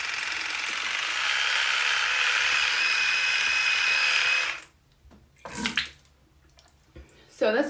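A water flosser sprays across adult braces, giving a loud, steady hiss with a faint mechanical buzz that runs for several seconds, then cuts off abruptly, leaving a few brief, quieter rustles and clicks.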